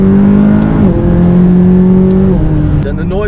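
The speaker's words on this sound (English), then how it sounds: "Something else that surprised me is just how much noise this McLaren makes." McLaren sports car engine revving loudly up close, a sustained strong drone with pitch steps like gear changes and a drop near the end, with a voice speaking over it.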